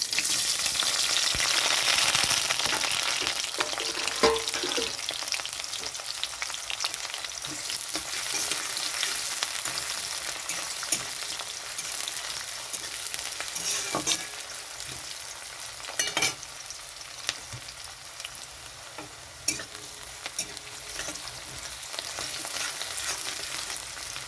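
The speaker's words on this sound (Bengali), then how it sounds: "তেলের মধ্যে দিয়ে দিচ্ছি তেজপাতা দিয়ে দিচ্ছি কুচানো পেঁয়াজ" Bay leaf and chopped onion fry in oil in a continuous close sizzle with crackling, broken by occasional sharp pops and stirring scrapes.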